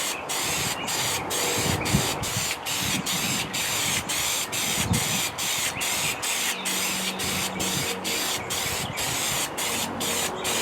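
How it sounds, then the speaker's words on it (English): Adhesive sprayed from an aerosol can onto an O-scale model railroad demo board outdoors, a steady close hiss running continuously with brief pulses between passes and no talking. "Once it's got a coat of the adhesive on it, we'll let it sit for a couple minutes to get tacky"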